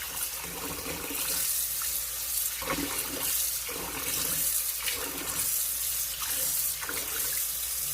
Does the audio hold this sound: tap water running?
yes